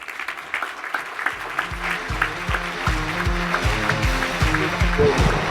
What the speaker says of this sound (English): I want everybody to get up and give him a great round of applause